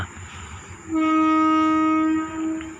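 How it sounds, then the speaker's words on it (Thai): Hitachi 4520 locomotive on the Thai railway pulls out of a station at night, its loud sustained horn blast sounding near for about a second and a half over low rumbling. "โอเคออกแล้วฮะฮิตาชิสี่ห้าสองศูนย์"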